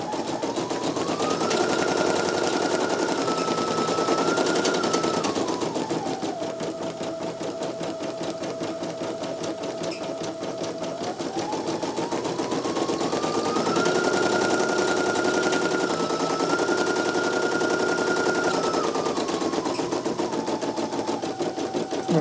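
A Brother PE-900 embroidery machine stitches out a design in thread, a loud, close, steady rapid needle clatter with a whining motor tone that rises and falls as the hoop shifts, running continuously with no talk.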